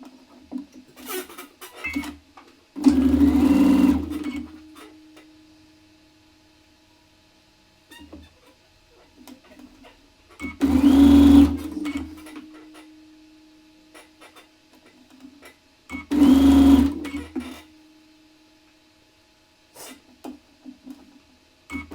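A sewing machine joins quilt pieces for a Grandma's Square block in three separate loud bursts of rapid stitching, each lasting a second or two, separated by long quiet gaps with small handling noises.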